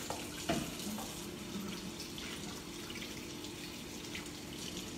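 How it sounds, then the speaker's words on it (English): Kitchen tap running steadily while hands are washed under it, a soft continuous splashing stream heard close but at low level, with no talking. "I'll just give my hands a wash."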